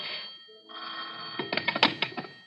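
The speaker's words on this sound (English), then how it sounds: "The telephone rang as I was setting out some ashtrays." An old-style telephone bell rings as a radio drama sound effect, a short tone followed by rapid rattling rings, close and clear with no talk over it.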